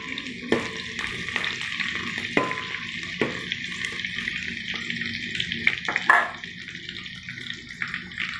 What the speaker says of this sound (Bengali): পেঁয়াজটা দিয়ে দিলাম গরম তেলে, একটু কাঁচা লঙ্কা দিয়ে দিলাম